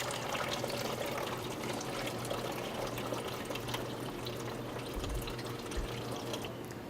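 Water drains from the barrels of a Stoelting 0231 custard soft serve machine, a steady close rushing trickle that runs continuously with no talking.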